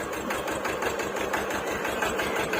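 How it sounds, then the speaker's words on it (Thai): A Hinomoto E18 two-cylinder tractor engine runs steadily close by, with a rapid, even chugging pulse and a constant mechanical clatter and no talking. "เครื่องยนต์เป็นเครื่องยนต์สองสูบนะ"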